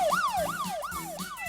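A police siren wails in a fast rising-and-falling cycle, four sweeps in quick succession, loud and close with no one talking.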